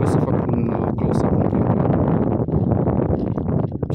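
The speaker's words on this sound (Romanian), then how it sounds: "Vântul aici bate destul de" Strong wind blowing outdoors on a mountain in the Ciucaș range, a steady loud buffeting roar across the microphone that runs unbroken throughout.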